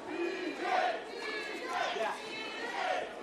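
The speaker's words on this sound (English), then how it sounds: "Crowd chanting PJ." Beach volleyball crowd at the Newport Beach Open chanting a player's nickname, rhythmic group voices rising and falling in repeated swells across a noisy outdoor arena, with cheering chatter throughout.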